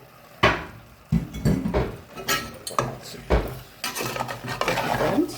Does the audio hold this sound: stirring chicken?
yes